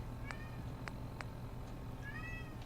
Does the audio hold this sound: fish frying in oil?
no